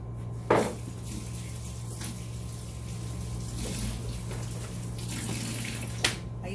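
Hot water running steadily from a kitchen tap to wet a knife for slicing sushi, a continuous close splashing rush with a couple of sharp clinks at start and end.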